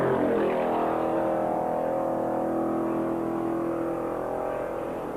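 Sidecar motorcycles race up a hill, engines roaring in a loud, continuous drone that holds steady throughout with no talk over it.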